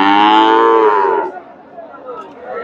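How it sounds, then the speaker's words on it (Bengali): A Friesian heifer at a cattle market gives a loud, close moo lasting over a second, then quieter market background follows. "চাষার গরু এদের সুন্দর দুইটা বকনা দেখতেছি এখানে।"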